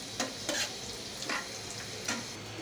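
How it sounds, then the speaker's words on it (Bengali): Onion and garlic fry in oil for a Bengali dal tempering, a steady close sizzle broken by several scraping stirs of a spatula at irregular intervals. "ডালের জন্য পেঁয়াজ আর রসুন ভেজে নিচ্ছি"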